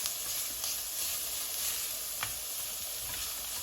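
Eggs sizzle in a buttered pan alongside steak, a steady close frying hiss with faint pops and crackles running throughout, no voices.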